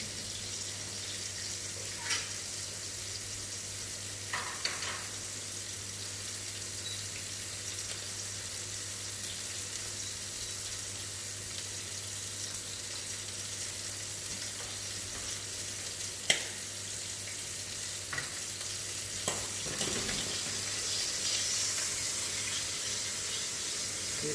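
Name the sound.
shrimps frying in a pan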